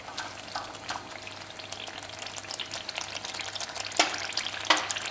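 Masala for egg korma sizzling and frying in a pan while being stirred, with steady crackle and a few louder scraping stir strokes near the end, no voices.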